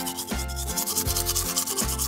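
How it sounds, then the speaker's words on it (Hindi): Toothbrush bristles rubbing over teeth in steady back-and-forth strokes, close and fairly loud, with a low hum and brief tonal sweeps beneath, no talking. "ये तुम्हें अपने दांतों को इस तरह से ब्रश करना चाहिए।"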